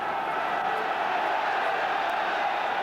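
Big football crowd at a West Ham v Arsenal First Division match in East London on a crisp afternoon, a steady, distant roar and murmur of thousands of spectators, continuous with no distinct cheers.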